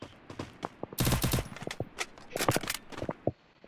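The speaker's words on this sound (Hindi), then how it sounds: "अरे वो छोटे वाला बंदूक से मारो" Gunfire from a small gun in a video game: bursts of rapid shots and scattered single cracks, moderately loud, with brief pauses between volleys and no talking.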